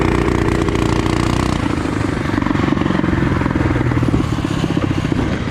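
Budget cafe racer motorcycle built on Harbor Freight parts, its engine running loud and close with a steady throbbing drone that shifts pitch partway through as it rides, with no other sounds.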